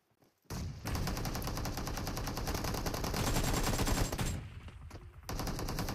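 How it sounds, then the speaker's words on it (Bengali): Sustained automatic gunfire spray in the mobile battle royale game PUBG Mobile, a dense rapid burst running almost nonstop for several seconds with a brief dip before it resumes, loud and close. "লেজেন্ড শাহেদ ভাইয়ের উপরে স্প্রে করা হলো, কানেক্টও হয়েছে"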